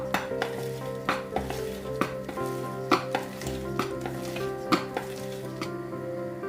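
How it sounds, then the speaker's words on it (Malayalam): Chocolate banana cake batter is mixed in a bowl, with steady stirring and scraping, repeated clinks of the utensil against the bowl, and a continuous wet churning throughout. "നന്നായിട്ടൊന്ന് മിക്സ് ചെയ്ത് കൊടുക്കാം."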